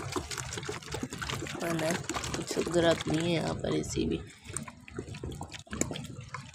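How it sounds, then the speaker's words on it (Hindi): Water flowing into a garden bed, a steady trickling pour running under a man's speech. "इस क्यारी को भर के पानी देना"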